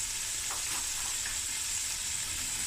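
Two fat garlic cloves fry lightly in a pan, giving a steady, even sizzle that stays constant and close, with faint stirring touches and no speech.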